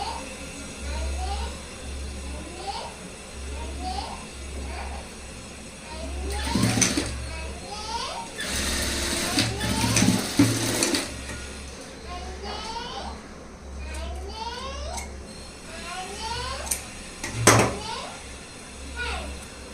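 A sewing machine stitches knot details on a blouse in short rhythmic bursts of whirring, repeated several times with pauses between, while a person talks nearby and children's voices and household knocks come and go.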